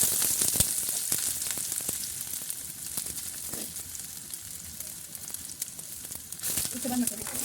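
Onions sizzling in hot oil in a pan on a low flame while Maggi is being made, a steady crackling fry with sharp pops throughout and a voice talking over it.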